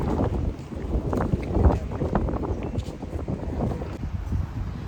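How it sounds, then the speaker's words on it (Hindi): Strong cold wind gusts across the microphone outside a Hindu temple entrance in Australia on a sunny day, a steady loud roaring buffet with rising and falling surges throughout, no voices heard. "हवा तो बहुत तेज़ चल रही है, ठंडी है"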